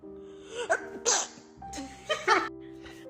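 A woman sneezes playfully several times in a row, small squeaky bursts mixed with giggling and brief talk, close and fairly quiet.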